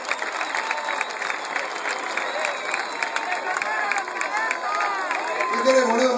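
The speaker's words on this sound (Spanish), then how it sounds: "un aplauso para el chabón que tenía protagonismo" Applause and cheering from a rock concert audience in Corrientes at a show, a steady wash of clapping and crowd noise mixed with shouting voices, with a short high tone near the end.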